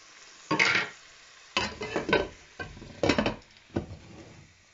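Onion and carrot are stirred in a hot frying pan, several bursts of scraping and sizzling from a spatula separated by quieter pauses, close by.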